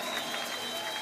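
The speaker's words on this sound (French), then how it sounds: "je demande de l'applaudir pour ça" Congregation applauding at a church memorial service, a steady, dense wash of many hands clapping throughout, moderately distant with no voices on top.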